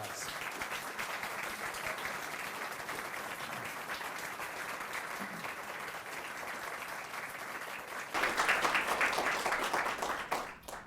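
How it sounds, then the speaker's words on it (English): An audience at a gala applauds in a dense, sustained wash of clapping from many hands, slightly distant, swelling louder near the end before tapering off. "So I was wondering if we could please give them a nice round of applause."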